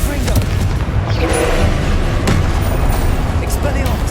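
The Confringo blasting spell from the Hogwarts Legacy game, with repeated loud booming explosions and sharp cracks in quick succession amid combat clamour, with a voice calling out during it.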